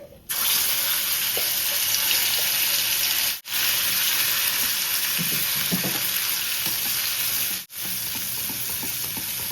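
Whole spices (bay leaf, cinnamon, black pepper, cloves) and prepared gravy sizzle in a pan with a loud, continuous hiss, broken by two short silent gaps, with faint stirring underneath.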